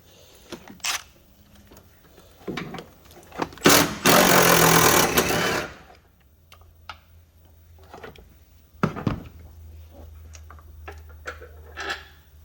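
Ratcheting and clanking as a 17 mm bolt is worked loose on a 2007 Honda Odyssey engine during timing belt and water pump work: scattered metallic ticks and clicks, one loud sustained burst of harsh noise partway through, then sparse close tool taps.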